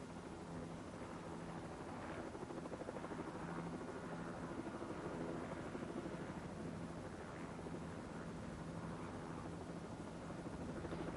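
Twin-engined Wessex rescue helicopter in a mountain glen, a steady, distant rotor and engine roar with broadband noise and faint pulsing, continuous throughout with no voices.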